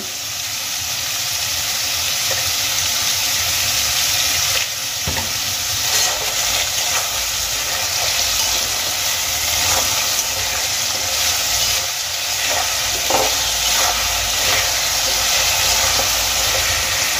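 Potatoes and carrots fry in a pan with salt for a cabbage vegetable curry, making a continuous close sizzle with occasional scraping stirs.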